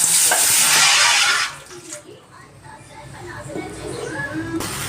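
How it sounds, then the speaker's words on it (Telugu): Water heats in a pot for gulab jamun sugar syrup, with a loud hissing roil that drops to a quieter, bubbling simmer under some talk. "నీళ్ళు మరుగుతున్నాయి."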